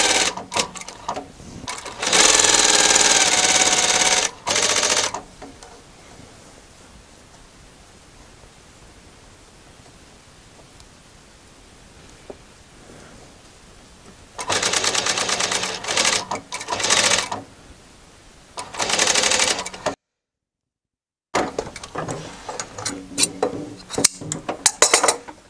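Sewing machine stitching double welt cord piping for upholstery, loud whirring bursts of several seconds that stop and restart between quiet pauses, with no talk.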